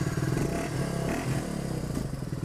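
Suzuki DR dirt bike engine running rough, a loud, close, continuous rumble with uneven pulsing and slight clatter throughout, no voices over it.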